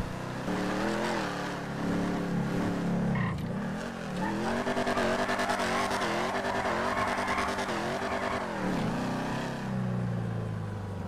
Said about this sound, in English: But we're just gonna go drive around town.